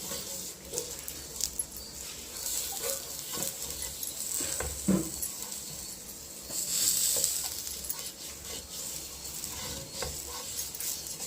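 A halved onion rubbed across a hot dosa griddle to clean it, giving a steady low sizzle with scraping strokes and a brief louder hiss partway through, nobody talking.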